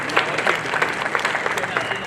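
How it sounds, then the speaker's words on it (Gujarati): A crowd at an Independence Day function applauds a group of young bikers, a brief burst of clapping with a voice talking over it. "જોરદાર તાળીઓથી વધાવ્યા યુવાન મિત્રોને"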